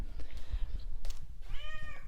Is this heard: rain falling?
no